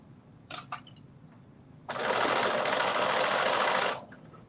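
A sewing machine stitches a 5/8 inch seam on a drop-shoulder long-sleeve top. A few light clicks come first, then one steady, loud whirring run of about two seconds that stops abruptly.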